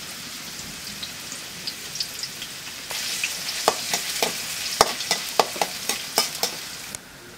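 Onions hiss and crackle as they drop into hot oil, a steady sizzle that jumps louder partway through with sharp spattering pops, close up and with no talking.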